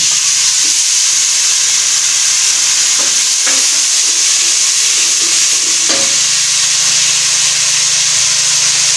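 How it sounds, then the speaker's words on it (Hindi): Tomatoes go into a sizzling kidney bean curry masala, a loud, dense frying hiss that fills the whole stretch, broken by a few soft stirring knocks from the spoon, with no one speaking. "अभी हम इसमें टमाटर भी ऐड कर देते हैं"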